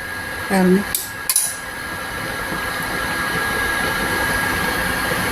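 A cooking pot of boiled potatoes, carrots and green peas is opened: a brief metallic lid clank and scrape, followed by a couple of sharp clinks, then a steady low background hum.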